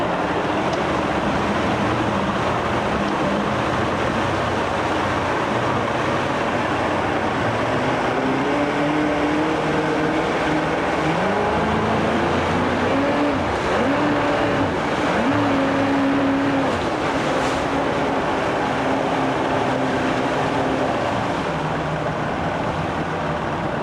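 A 1993 Johnson 90hp two-stroke remote outboard boat motor with a 20-inch shaft runs steadily, a loud rough drone whose pitch rises and wavers midway as it is put into gear.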